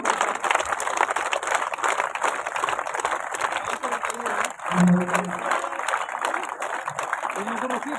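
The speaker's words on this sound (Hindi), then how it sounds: "तालियां तेज होती रहनी चाहिए।" Applause from an audience rises in a continuous wash of claps at a public gathering, loud and sustained throughout, with a brief voice or tone breaking through near the middle.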